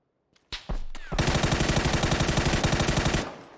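Rapid automatic gunfire in the battle royale game PUBG on console: after a couple of sharp opening shots, a loud, close burst of evenly spaced rounds rattles for about two seconds before cutting off into a short echoing tail.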